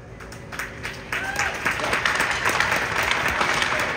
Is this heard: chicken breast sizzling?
no